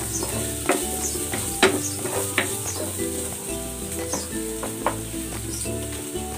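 Ginger and onion sauté in a pan with a lively sizzle, broken by repeated clinks and scrapes of a utensil stirring against the pan.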